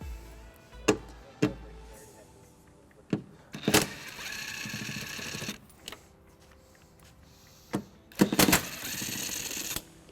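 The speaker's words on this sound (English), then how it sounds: "We're going to remove these two bolts using a 10mm socket." Ratchet and 10mm socket backing out the tail light bolts on a 2015 Dodge Grand Caravan, heard as bursts of quick clicking ratchet strokes separated by brief pauses, close and fairly quiet.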